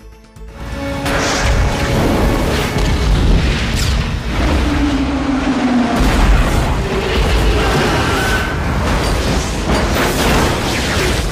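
A deep boom bursts out, followed by a rumbling, crackling roar of debris and fire that carries on loudly for several seconds.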